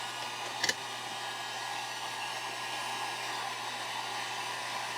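Heat gun blowing hot air onto a crankbait lure being painted with scales through netting, a steady close whooshing hiss with a brief tap near the start.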